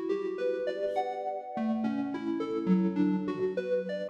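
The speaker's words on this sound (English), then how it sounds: "all I did was strum out the chords so it sounds like strummed out" Plucked synth chords strummed out note by note, each chord rolling up in quick staggered plucks, clear and steady with no voices.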